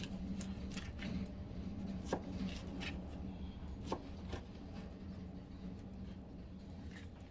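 A knife slicing a steak across the grain into thin strips on a board, giving quiet, irregular cutting taps and scrapes, with two sharper knocks standing out against a low background hum.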